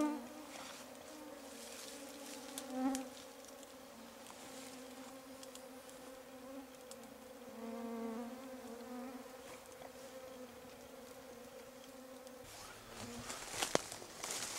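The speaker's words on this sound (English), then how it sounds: "the bugs are absolutely phenomenal" Swarming insects buzzing close around a small willow-wood campfire in Swan Valley, a steady drone of many overlapping wings with occasional louder passes near the ear.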